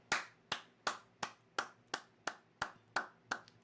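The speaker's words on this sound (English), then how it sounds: "I'm just gonna clap it off here." Single person clapping hands in a podcast setting, nine sharp evenly spaced claps, close and clear with no talk over them.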